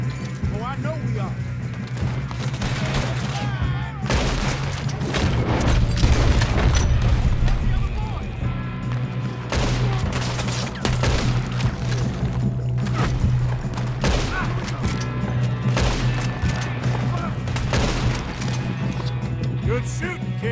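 Gunfire in the video game Red Dead Redemption: repeated sharp shots and booms scattered irregularly over about twenty seconds against a steady low hum, with voices talking between shots.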